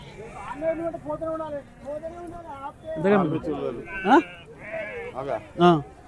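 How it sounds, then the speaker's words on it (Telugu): Sheep bleat repeatedly at a weekly Saturday livestock market in Dubbaka, several wavering calls close by, mixed with people chatting nearby. "గొర్రెలు బ్రహ్మాండంగా ఉన్నాయి"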